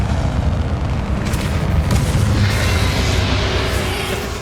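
Bombarda spell explosion in Hogwarts Legacy, a loud, sustained booming roar that swells and rumbles for several seconds as a dense blast of noise, without speech.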